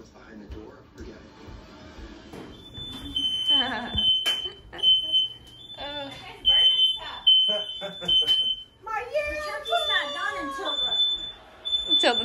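A household smoke alarm sounds with sharp, repeated high-pitched beeps that come and go while several people talk and laugh over it nearby.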